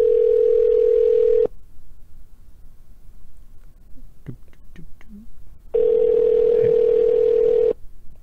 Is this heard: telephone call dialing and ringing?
yes